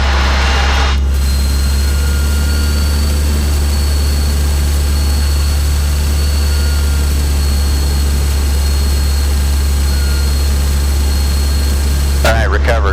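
Light training aircraft engine droning loud and steady as power is added in flight, a continuous low hum filling the cabin, with brief bursts of noise at the start and end.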